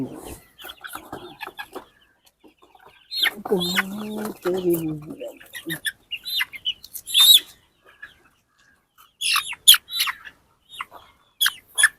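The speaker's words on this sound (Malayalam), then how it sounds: "ഫയോമയുടെ വലിയ പെട ഞാൻ കണ്ടു തരാം ഇവിടെ" Fayoumi chickens on a poultry farm clucking in short, scattered calls, near and fairly loud, with a longer run of rising clucks in the middle and quiet gaps between.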